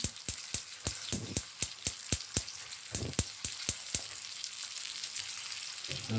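Thick fish sizzles and spits in hot oil on a stove, with a series of sharp crackling pops over a steady hiss, fading to a softer continuous sizzle.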